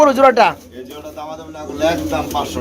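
Pigeons at a pigeon sale cooing in warbling bursts close by, mixed with someone talking over them throughout.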